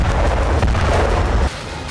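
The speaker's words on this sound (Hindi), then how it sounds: "युद्ध के मैदान में रूस ने 1500 किलो के मॉन्स्टर बम से विस्फोट किया तो बहुत बड़ा प्रलय आ गया।" A 1500 kg Russian bomb detonates on a battlefield, its deep rumbling blast roaring loud and continuous before cutting to a quieter low hum.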